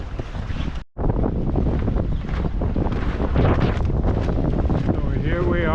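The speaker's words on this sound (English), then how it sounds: "So here we are, sailing with a deeply rolled, deeply reefed Genoa." Strong wind roars steadily across the microphone while sailing under a deeply reefed, rolled genoa on a solo ocean passage from Majuro to Guam, with boat and water noise beneath and a brief dropout near the start.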